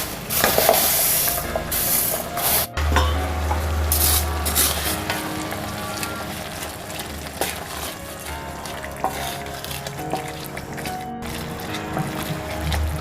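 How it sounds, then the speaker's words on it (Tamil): Roasted vermicelli is tipped into a pot of boiling water and stirred for semiya chicken biryani, giving a steady bubbling hiss with a sharp splash near the start and scraping stirs throughout, close and with no talking. "இப்போது நம்ம ரோஸ்ட் பண்ணி வச்ச இந்த சேமியாவை ஆட் பண்ணிடலாம்."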